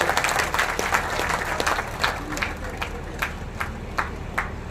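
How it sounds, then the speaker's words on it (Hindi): Crowd clapping in welcome at an outdoor political rally in Rajasthan, a dense wash of many hands with sharper individual claps standing out, continuing steadily throughout. "एक बार ताली बजा के स्वागत करो।"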